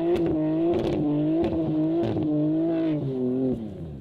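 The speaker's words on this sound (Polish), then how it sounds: "usłyszycie wtedy połączenie dolotu z wydechem" A BMW M car engine with an MG Motorsport exhaust roars steadily and close, blending intake and exhaust sound. The pitch steps up and down as it revs.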